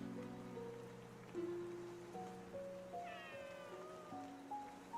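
Cats meow softly in the Heartopia video game, a few brief mews heard against gentle in-game music and a rain-like background hiss.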